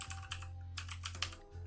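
Quick keystrokes on a computer keyboard while entering a shutdown command on a Raspberry Pi, a short burst of soft, close clicks in uneven rhythm over a faint steady hum.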